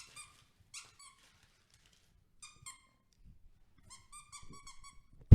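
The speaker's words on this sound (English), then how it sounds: "Oh, it's squeakies." Squeaky pet toy squeezed in short bursts, several high-pitched squeaks in uneven clusters with quiet gaps between, close and clear, ending on a sudden loud knock.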